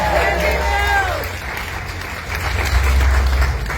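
Audience applause at a Farm Aid 40 panel discussion, a steady wash of clapping from a crowd with a voice talking over the start.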